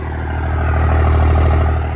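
A long-neglected 1st Gen Cummins diesel truck engine runs steadily with a deep low rumble at a steady idle, close and loud throughout with no talk.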